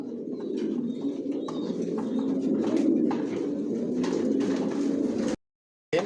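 Racing pigeons in a loft coo in a steady low chorus, with a few faint chirps above it, before a sudden brief cut to silence.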